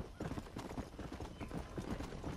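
Horse hooves clip-clop at a steady trotting rhythm in Red Dead Redemption, faint and somewhat muffled under a broad wash of background noise.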